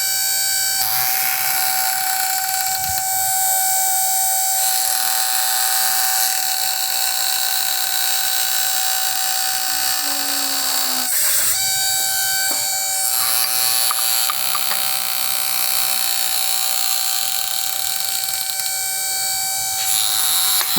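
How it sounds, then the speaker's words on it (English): An electric tube bender grinds loudly and continuously while bending tube for a 1961 Cadillac Coupe DeVille twin-turbo build, a harsh steady motor whine with a sharp tonal note, briefly dipping once mid-run before carrying on. "This is the loudest tube bender ever."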